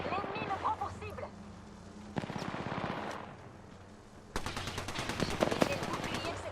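Enemy automatic gunfire in the video game Apex Legends, rapid repeated bursts of shots with a dense volley at the end, loud and close, heard under a man's speech.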